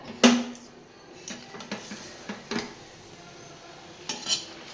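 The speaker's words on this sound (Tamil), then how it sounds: "இதை நம்ம கிளறி பார்ப்போம்" A spoon stirs cooked jackfruit biryani in a pot, producing a few distinct metallic clanks and scrapes against the rim at close range, with quieter shuffling between them.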